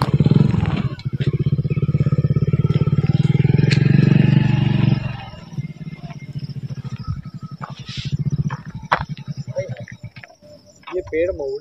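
A motorcycle engine idles loudly and steadily nearby, then drops to a lower, uneven putter with rattles and a few short bursts toward the end.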